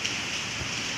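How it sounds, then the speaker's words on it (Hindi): Heavy rain pouring down outdoors during a solar power system check, a dense steady hiss of countless drops on surfaces, loud and unbroken for the whole second. "आप देख रहे हैं इतनी तेज़ बारिश है"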